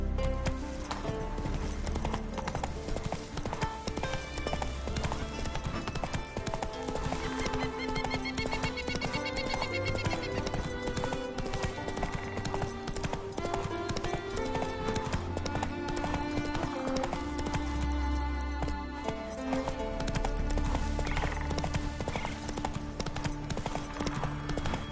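Horse hooves clip-clop steadily beneath a rider in The Witcher game, a continuous loud galloping rhythm with occasional neighs, set against a dense music score throughout.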